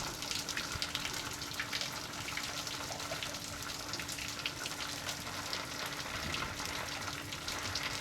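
Engine coolant drains from a Ford Econoline E350/E450 van, pouring out in a steady, splashing gush, hissing continuously close by without a break.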